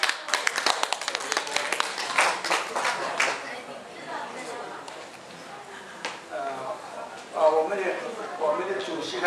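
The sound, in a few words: audience applause welcoming a doctor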